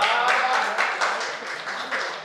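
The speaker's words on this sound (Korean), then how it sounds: "박수 주세요." A lecture audience applauds, a dense wash of clapping from many hands in a hall that stays fairly loud and steady for a couple of seconds before easing slightly.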